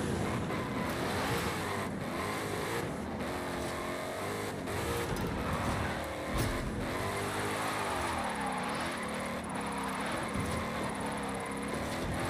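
A car drifts in Forza Horizon 5, engine revving hard with fluctuating pitch and tyre noise, a continuous, fairly quiet game soundtrack without talk.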